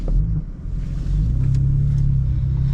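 A 2020 BMW M4 CS with its S55 engine drives along, a loud steady low rumble filling the cabin with a deepening drone as it pulls, close and continuous with no talking.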